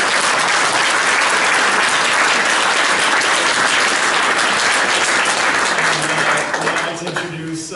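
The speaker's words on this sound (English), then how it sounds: "can you please give our panel a round of applause?" Sustained, loud applause from a town hall audience after a panel discussion on climate and environmental tipping points, steady clapping throughout that thins out near the end.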